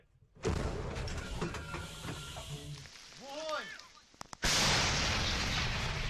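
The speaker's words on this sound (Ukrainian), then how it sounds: "Фронт гримить навіть попри таку дощову погоду. Артилерія працює з обох боків." Two heavy artillery blasts boom out a few seconds apart on a frontline battlefield in rainy weather, the second louder and rumbling on, with muffled voices in between.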